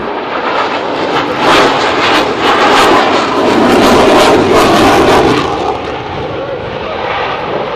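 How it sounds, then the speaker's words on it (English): An F-18 fighter jet roars past at an air show, its engine noise swelling loud toward the middle then easing off, while an announcer talks over it. "He will reach show center at just over 300 miles per hour, demonstrate the superb nose authority and ability of the F-18."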